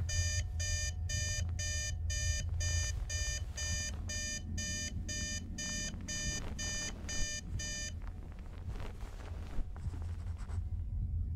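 A bell in the game Suite 776 rings as a fast, sharply chopped metallic burst repeated steadily for several seconds before cutting off, leaving a low ambient hum.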